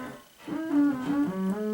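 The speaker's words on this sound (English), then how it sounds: "what you're hearing is you're hearing this synth following this synth" Two buzzy synthesizer tones sliding and wavering together, one tracking the other's pitch, steady and moderately loud with no talking.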